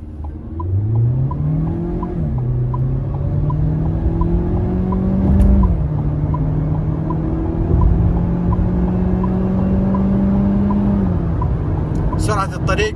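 A 2022 Changan Eado Plus in sport mode accelerates on a highway, its engine droning loud and steady as revs climb, dip at gear changes and climb again, with someone speaking over the engine.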